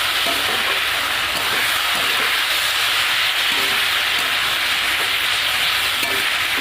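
Bottle gourd with lentil nuggets frying in a pan, giving a loud, steady sizzle with occasional stirring scrapes throughout and no talking.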